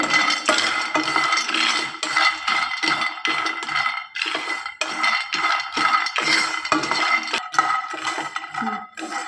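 Almonds dry-roasting in a frying pan on a stove, with a spatula scraping and clattering against the pan in irregular bursts and short pauses, close and fairly loud.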